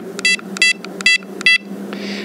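Prologic Custom SMX MK II bite alarm receiver sounds four short, bright electronic beeps at a steady, even pace, loud and close, followed by a brief softer tone over a low hum.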